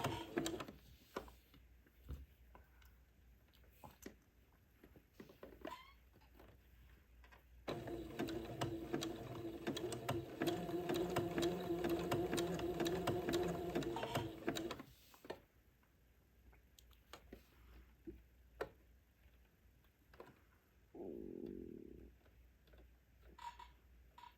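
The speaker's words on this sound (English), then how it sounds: "I want to make sure that none of the little gathers kink up as I'm sewing the edging lace to the cuff" A sewing machine zigzags edging lace onto a gathered cuff for a Christmas bishop dress, running steadily for several seconds amid quieter handling clicks and rustles before and after, close and alone without talking.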